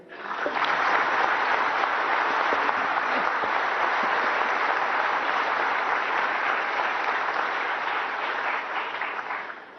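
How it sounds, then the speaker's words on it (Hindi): Sustained, dense applause from a crowd, steady and loud throughout, with no talking over it. "बच्चों के लिए तो थोड़ा ताली हो जाए"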